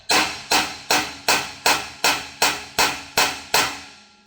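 Hammer striking to impact-load a steel bolt threading into aluminium on a stainless tapered seat, ten sharp evenly spaced metallic blows, loud and close, each ringing briefly.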